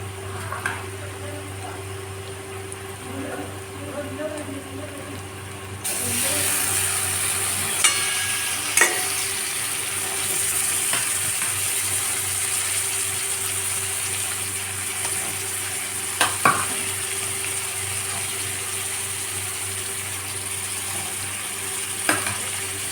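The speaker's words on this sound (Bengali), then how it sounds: "মাংসটা দিয়ে আমি ভালো করে ঢাকা দিয়ে দিয়ে কষব" Mutton and onions cook down in a pan for a Bengali kosha with potatoes, making a continuous moderate sizzle with a low background hum and a few sharp clinks of stirring, no talking.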